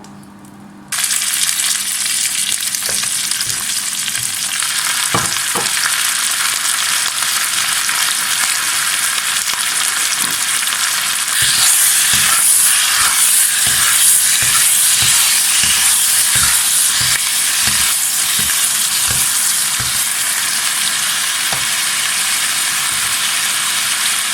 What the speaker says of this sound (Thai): เราจะผัดใส่แต่น้ำมันหอยนะคะ